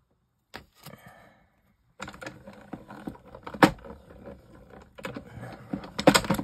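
A piece of material being cut by hand in short, close, scratchy bursts with brief pauses between them, fairly quiet.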